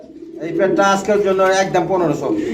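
A pair of domestic pigeons, a chocolate-colored female and a classic-colored male, coo in deep, throaty rolling phrases close by, loud and continuous.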